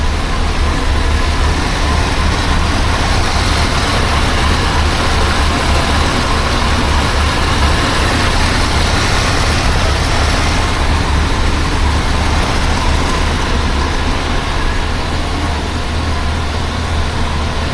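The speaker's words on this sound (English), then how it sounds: "A running car." A restored 1976 BMW 2002 engine runs steadily on its first start after restoration, a loud continuous low rumble with an even idle throughout, no one speaking.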